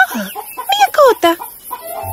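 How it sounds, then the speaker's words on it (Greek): A hen clucks in a close, loud series of choppy squawking calls in a farmyard setting, with a brief rooster-like cry near the middle and a short pause before a final cluck. "Μια κότα."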